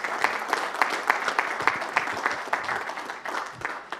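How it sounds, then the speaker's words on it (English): Audience applause at an Inter-Neighborhood Council meeting, steady hand clapping from a modest indoor crowd, fairly close and sustained, tapering slightly near the end. "So let's give Daniel Ryberg a round of applause, please."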